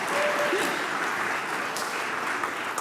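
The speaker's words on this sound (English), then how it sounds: "Please give a huge round of applause to Ari!" Audience applause at an Epic Games and Unreal Engine presentation, a steady wash of clapping from a large crowd that holds evenly through the whole stretch.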